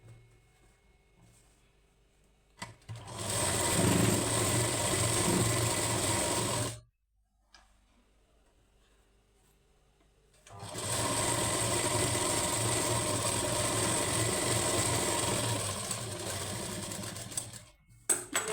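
An electric sewing machine stitches a lined blouse in two long, steady bursts of fast whirring needle action, separated by a quiet pause, recorded close and loud without talk.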